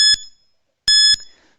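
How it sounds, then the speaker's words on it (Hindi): Two loud electronic timer beeps, each a short bright tone about a quarter second long, spaced under a second apart with quiet between them. "Let's start the timer."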